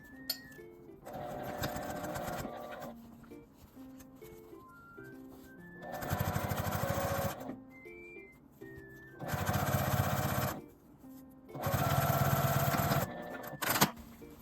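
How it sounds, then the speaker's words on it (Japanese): Several bursts of fast, buzzing machine edge stitching on the right side of a fabric pouch start and stop, with light music playing in the gaps and a brief clack at the end. "表側から端ミシンをかけます。"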